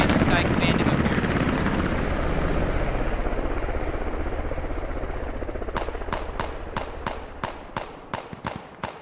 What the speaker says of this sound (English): Oh! Helicopter's trailing smoke.